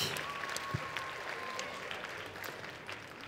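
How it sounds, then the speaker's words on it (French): A cosplay contest crowd applauds itself at a Japanese culture convention, a faint, distant, even wash of clapping with a few sharper individual claps and a thin sustained tone early on. "Applaudissez-vous parce que vous êtes un super public."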